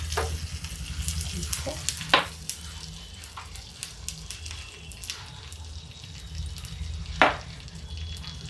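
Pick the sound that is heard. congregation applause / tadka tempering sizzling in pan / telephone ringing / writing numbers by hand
tadka tempering sizzling in pan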